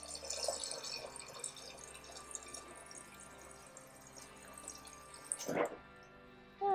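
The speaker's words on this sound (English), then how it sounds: "We're gonna go to my fridge to get some water." A refrigerator water dispenser fills a coffee mug in a kitchen, a soft running trickle of water that is faint and steady, ending with a brief louder clunk near the end.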